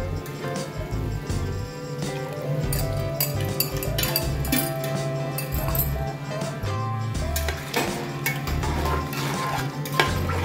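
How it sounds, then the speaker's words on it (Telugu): Yogurt going into a pot of mutton white pulao, with a utensil stirring and scraping against the metal pot amid clinks and a soft sizzle, steady and close for the whole stretch. "ఈ మూమెంట్లో నేను చూడండి పెరుగు వేస్తున్నాను దీంట్లో."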